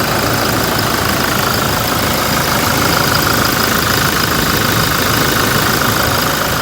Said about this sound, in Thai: เครื่องยนต์เดินเรียบเดินนิ่งนะครับ รอบไม่มีแก่งไม่มีสวิงนะครับ